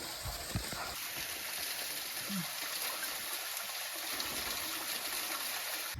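An old-style water tap at Raigad runs in a continuous thin trickling stream, a steady hiss-like flow, moderately close, with a few low thuds and brief background murmurs.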